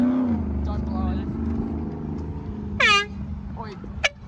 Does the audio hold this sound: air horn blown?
yes